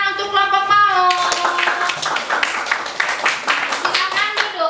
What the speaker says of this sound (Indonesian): Tepuk tangan untuk kelompok mau.